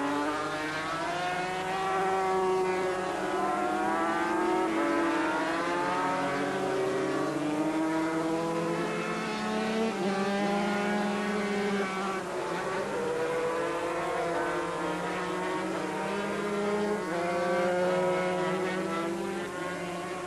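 Loud, continuous engine whine from 500 cc racing motorcycles at Oran Park in 1985, pitch rising and falling as they accelerate and shift around the circuit, steady throughout with no talking.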